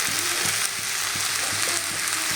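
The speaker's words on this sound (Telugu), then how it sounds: "కారం వేసుకొని బాగా కలుపుకొని కూర వచ్చేస్తుంది" Broad bean curry with chilli powder fries and is stirred in a pan, a loud continuous sizzle broken by regular scraping strokes of the spoon.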